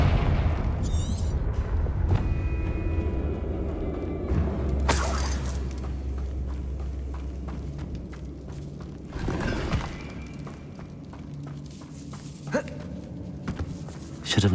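Confringo spell explosions in Hogwarts Legacy gameplay: two heavy booming blasts with crackling debris rise over a steady rumbling game soundscape, along with scattered impacts and brief metallic effects.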